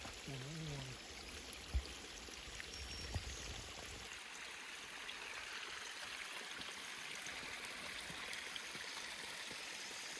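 Creek water flowing steadily through a river gorge on a long waterfall hike, a broad continuous rushing wash that stays even throughout, with a couple of brief knocks and a short voice near the start.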